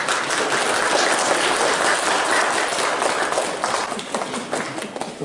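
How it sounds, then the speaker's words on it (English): Congregation applause during a Lutheran Reformation Day church service welcoming a newly confirmed member: dense, steady clapping from a sizeable group filling the room, holding level throughout and easing slightly toward the end. "a round of applause."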